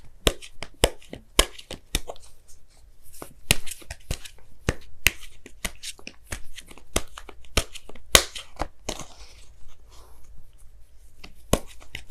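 Oracle cards shuffled and drawn by hand, a long run of sharp, dry slaps and riffles in irregular bursts, close and crisp against a quiet room, with no talking.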